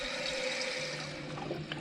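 Water rushing into a running toilet's tank as it refills after repair, a steady close hiss and gurgle of flowing water with no voices.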